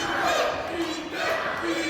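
A wrestling event crowd roars and cheers in a dense, continuous wash of voices, with a commentator talking over the noise throughout.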